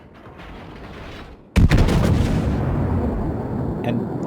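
A battleship's main guns fire a heavy salvo in a naval warfare game: the quiet rumble before gives way to a single loud blast, and a long booming roar and echo trail on afterward.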